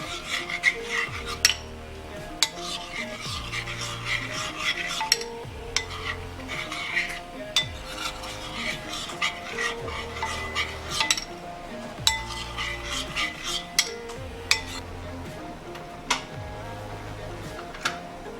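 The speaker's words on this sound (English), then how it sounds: "I just put it and stir it together with the hot water, as you can see." Corn flour ogi (akamu) stirred into hot water in a pot, a steady rhythmic scraping and swishing with regular clinks of the spoon against the pot, close and fairly loud, no voices.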